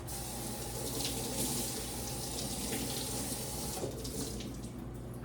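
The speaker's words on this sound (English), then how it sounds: "I like to give it just a little quick rinse" A kitchen faucet runs a steady stream of water over a piece of ham bone being rinsed for soup beans, a continuous hiss and splash that shifts slightly as the bone moves under the flow, with no talk.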